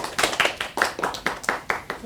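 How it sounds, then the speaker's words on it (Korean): Applause from a lecture audience welcoming a meditation teacher onto the stage, a brisk run of distinct hand claps in a steady rhythm, fairly close and moderately loud, with no talking over it. "박수로 맞아 주시기 바랍니다"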